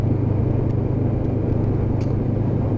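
A Lexmoto LXR 380cc motorcycle cruises through town at a steady 30 mph in fifth gear at about 3000 RPM, giving a loud, even engine drone with a faint tick near the end.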